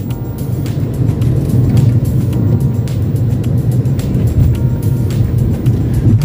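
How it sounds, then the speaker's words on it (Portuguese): A steady stream of cars heads downhill on the BR 101 highway along the northern São Paulo coast, a loud, continuous roar of tyres and engines with no pauses. "muitos carros descendo."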